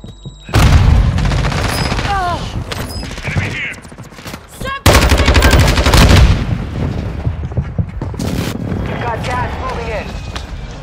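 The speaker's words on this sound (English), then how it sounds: "Contact precision airstrike." Precision airstrike explosions in the video game Call of Duty Warzone 2, loud booming blasts in two heavy rolling waves with rapid crackling fire between them, a game voice briefly heard.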